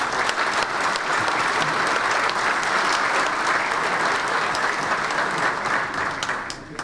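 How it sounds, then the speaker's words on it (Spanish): Strong, sustained applause from a seated breakfast-event audience greeting minister Fernando Lorenzo, a dense steady roar of many clapping hands that holds throughout and eases slightly at the end. "Les pido un fuerte aplauso para el ministro Fernando Lorenzo."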